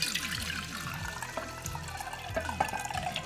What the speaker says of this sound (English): now I guess I'm gonna try to pour this back in here.